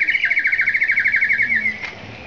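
A Japanese water bird whistle filled with water is played, giving a loud, warbling trill of rapid chirps that runs steadily for about two seconds before it trails off.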